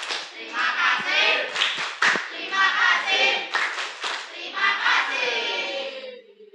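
Students in a junior high classroom clap together, fairly close, mixed with cheering voices and a few sharp individual claps.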